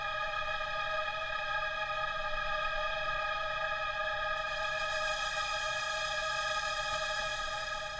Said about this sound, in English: I'm going to single out the drone in a second and show you what just the drone sounds like